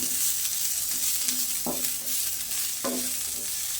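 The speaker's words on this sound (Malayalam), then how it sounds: "ഇനി ഇത് നന്നായിട്ട് തന്നെ ഒന്ന് യോജിപ്പിച്ചെടുക്കാം" A spoon scrapes and stirs a sizzling prawn snack mixture with coriander leaves in a hot pan, two distinct scraping strokes over a steady frying hiss.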